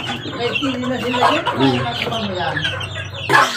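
Chickens cluck and chatter nearby in a steady, overlapping stream, with a louder squawk near the end.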